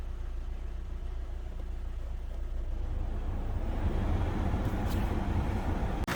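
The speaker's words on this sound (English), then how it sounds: "so the vehicle is running" A 2008–2012 Chevy Malibu engine idles with a low, steady rumble, close and continuous, during a thermostat replacement for a P0128 fault; a faint click sounds near the end.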